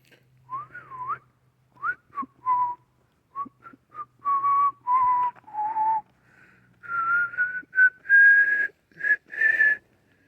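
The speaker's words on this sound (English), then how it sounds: "1 hour of whistling. All the whistling you can whistle." A person whistles a series of short melodic phrases, bending and sliding between notes, clear and close with brief pauses between bursts.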